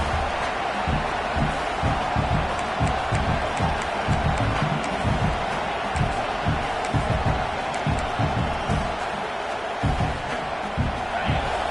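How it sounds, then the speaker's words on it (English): A big football stadium crowd at Michigan vs Ohio State roars to inspire the defense near the goal line, a steady loud wash of cheering throughout, with some thuds and talk mixed in. "this big crowd doing everything possible to inspire this defense down here near the goal line"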